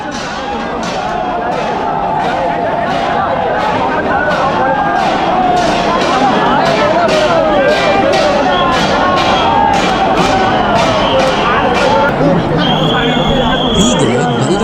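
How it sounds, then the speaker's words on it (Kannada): Festival crowds at the Puri Ratha Yatra chariot procession chant and cheer in a loud, continuous roar of many voices, with rhythmic clanging percussion throughout. "ಆ ಜನರ ಜೈಕಾರ,"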